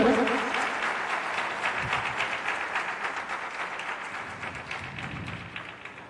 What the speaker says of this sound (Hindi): आप सब मंचस्थ अतिथियों का जोरदार तालियों से स्वागत करें